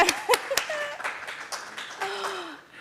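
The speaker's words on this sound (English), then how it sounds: "You got to keep clapping" Scattered hand clapping from a live conference audience, a few sharp separate claps early then lighter uneven clapping, with some speech and murmuring mixed in.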